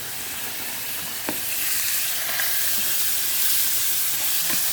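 Lardons frying for carbonara in a pan give off a steady, close broadband sizzle with a few faint pops and ticks, growing slightly louder toward the end, with no voices.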